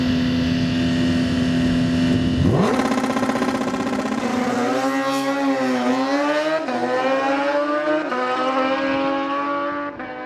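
A drag racing car at KOTN Dragway in Bonfield, Ontario, running aggressive burnouts, roars loudly: steady idle, then a sharp launch into a screaming, climbing engine note that holds and wavers before easing off at the end.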